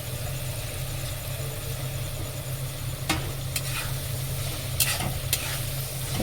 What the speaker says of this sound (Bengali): পনিরটা দিয়ে একটু ভেজে নিয়ে তারপরে জল দিয়ে দেব